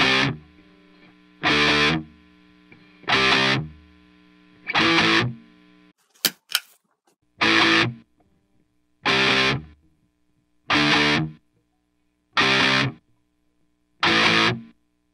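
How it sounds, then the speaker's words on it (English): Distorted electric guitar run through an MXR M195 Noise Clamp noise gate pedal, strummed in nine loud, evenly spaced bursts with near-silent gaps between them where the hiss is cut off, plus a brief sharp click midway. "As you can hear, it gates out the hiss as I stop strumming."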